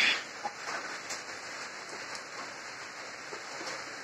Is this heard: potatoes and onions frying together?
no